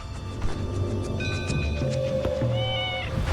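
A cat meows several times in an animated story, with clear, fairly close tonal calls over a light background.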